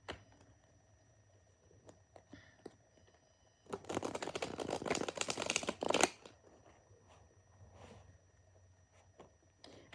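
A deck of tarot cards is riffled in a quiet room, a dense, rustling burst lasting about two seconds, preceded and followed by soft, scattered card-handling clicks.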